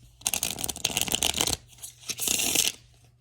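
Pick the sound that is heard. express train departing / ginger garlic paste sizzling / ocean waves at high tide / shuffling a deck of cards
shuffling a deck of cards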